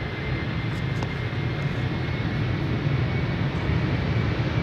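A Boeing 767 jet departing Amsterdam's Polderbaan runway 36L gives a steady, broad engine roar with heavy low rumble that holds at even loudness, moderately distant and without talk.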